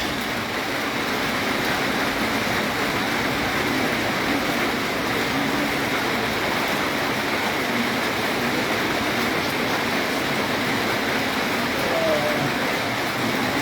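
Heavy rain pours down in a steady, dense hiss that stays constant throughout, with no pauses, during a thunderstorm in Comilla, Bangladesh.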